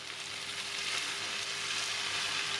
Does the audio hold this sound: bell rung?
no